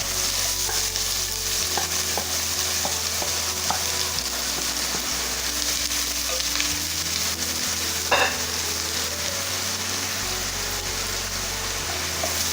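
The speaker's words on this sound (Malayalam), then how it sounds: "നമുക്കിതിലേക്ക് അരിഞ്ഞു വെച്ചിട്ടുള്ള സവാള ചേർത്ത് കൊടുക്കാം" Chopped onions sautéing with garam masala and cumin in a pan for chicken tikka masala, a steady loud sizzle with occasional stirring scrapes and clicks running throughout, no voices.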